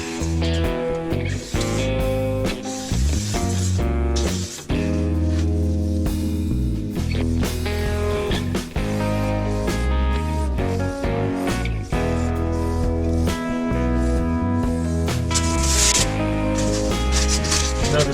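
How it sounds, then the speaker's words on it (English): Japanese pull saw cutting silver-faced foam insulation board for a chicken coop: continuous rhythmic rasping strokes, close and fairly loud, with brief pauses between runs of sawing. "I'm going to use a Japanese saw to try to cut it as fine as I can and fit it in between some of those studs"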